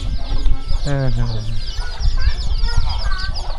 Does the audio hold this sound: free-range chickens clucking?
yes